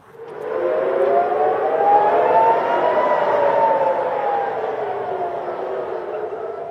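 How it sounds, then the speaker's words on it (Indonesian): An air raid warning siren wails in Tel Aviv, Israel, in the early hours, one long sustained rising-and-falling tone carried over distance and holding steady throughout. "Suara peringatan sirine dan ledakan kembali terdengar di Tel Aviv, Israel pada Selasa dini hari"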